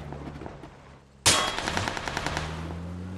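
Gunfire in the battle-royale game PUBG: after a quiet stretch, a loud burst of rapid automatic shots erupts and keeps rattling in dense repeated bursts until the end.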